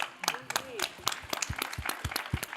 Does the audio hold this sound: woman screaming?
no